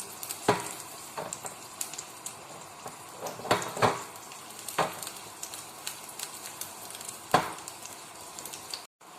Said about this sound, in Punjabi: ਹੁਣ ਆਪਾਂ ਇਹਦੇ ਵਿੱਚ ਲਸਣ ਚਟਕਾਉਣੇ ਆ